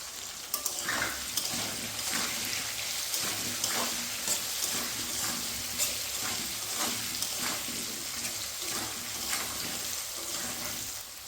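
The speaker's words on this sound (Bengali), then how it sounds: "তো আমাদের আলুটা কিন্তু একটু হালকা করে ভেজে নেব।" Potatoes frying in a pan with salt and turmeric for a mixed vegetable dish, a dense steady sizzle and crackle with occasional stirring scrapes running throughout.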